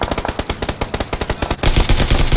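Rapid automatic gunfire in PUBG, a loud close burst of evenly spaced shots that runs into a denser, heavier stretch of fire.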